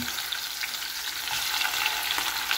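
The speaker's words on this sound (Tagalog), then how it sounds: "dito ay ipiprito natin itong ating pork ribs" Pork ribs frying in hot oil, a steady bright sizzle and crackle with small pops, close and continuous without talk.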